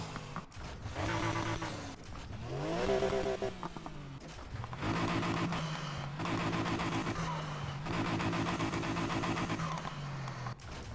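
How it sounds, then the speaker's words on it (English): A BMW engine in the racing game Need for Speed Heat revs up and down in repeated rising and falling surges, loud and buzzy, with brief gear-shift dips between pulls. "BMW engine."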